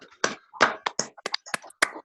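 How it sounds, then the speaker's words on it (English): Online meeting participants clap over their unmuted microphones, sparse uneven claps arriving separately and irregularly, close and slightly clipped. "If everybody could just unmute yourselves and give Mr. Elsmere a clap for his presentation"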